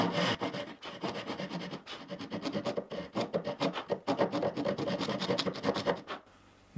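A hand saw cuts slowly and steadily through wood for a half-lap joint, giving close, rhythmic rasping back-and-forth strokes with no talk, then a brief quiet pause at the end.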